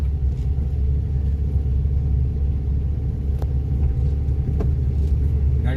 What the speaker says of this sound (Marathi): गाडीचा साऊंड वाढतोय